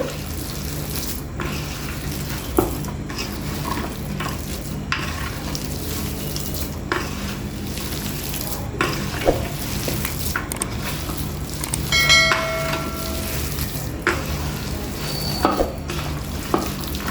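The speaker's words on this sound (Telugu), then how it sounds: "మనం ఇట్లా ముద్దలాగా వచ్చేలా కలుపుకోవాలండి" Batter of rice flour with grated bottle gourd and onion for garelu is mixed by hand into a thick dough, giving continuous wet squelching and stirring with occasional clinks, close and steady with no talk.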